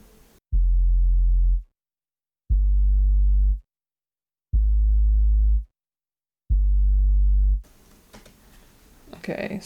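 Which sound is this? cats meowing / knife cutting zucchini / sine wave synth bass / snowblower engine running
sine wave synth bass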